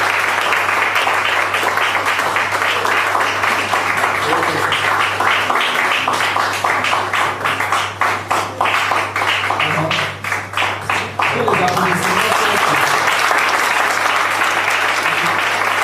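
Sustained, loud clapping from a crowded room at a certificate-giving ceremony, dense and continuous, with a brief thinning where individual claps stand out before swelling again, a voice faintly heard beneath.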